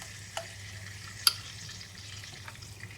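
Ginger garlic paste sizzles softly in melted butter in a pan for Peshawari namkeen gosht, a low steady frying hiss with a few faint clinks and stirring scrapes, quiet and without talk.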